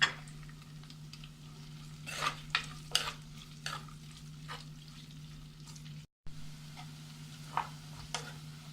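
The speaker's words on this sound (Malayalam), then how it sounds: "ഇനി ഇതിലേക്ക് അരിഞ്ഞു വെച്ചേക്കണ ഇഞ്ചി, പച്ചമുളക്, വേപ്പില, സവാള ചേർത്ത് വഴറ്റാം." Ginger, green chili, curry leaves and onion sauté in a pan for beef vindaloo, a low steady sizzle under a constant hum, punctuated by sharp utensil scrapes and clinks and one brief dropout.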